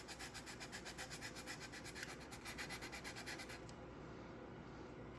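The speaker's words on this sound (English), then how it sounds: "This is finer sandpaper than I normally use." Fine sandpaper rubbed by hand across the wooden deck of a Model Shipways Muscongus Bay lobster smack model, a quiet, rhythmic back-and-forth scratching of about a dozen even strokes that stops near the end, with no voices.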